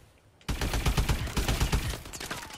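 Rapid automatic gunfire from the AE4 in Advanced Warfare, a dense loud burst of close shots starting abruptly and running steadily for about two seconds with no talking.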